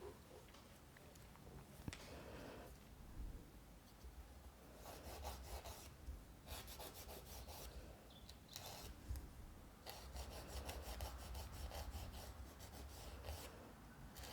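A nail file rasps against a fingernail in quick rhythmic back-and-forth strokes during a gel polish manicure, close and continuous, with brief pauses between runs of strokes.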